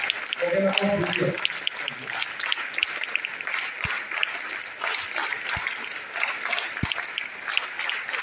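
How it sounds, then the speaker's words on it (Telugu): An audience rises and claps at a speaking event in Tirupati, and sustained applause fills the whole stretch while a voice briefly speaks over it near the start. "ఇలా లేచి చప్పట్లు అద్భుతంగా ఉంది"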